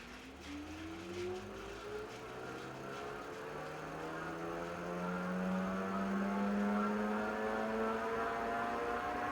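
An Amazon e-bike motor run at full throttle on a motorcycle dyno, a steady whine with tones sweeping upward as it winds through the power range, fairly faint and continuous.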